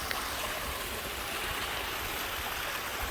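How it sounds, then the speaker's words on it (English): Small stream rapids at Frey's Run, a little waterfall in the Turkey Hill Nature Preserve, a steady broadband rush of flowing water, moderately loud and constant throughout with no talk. "It's more like little rapids than a waterfall, but it's still nice."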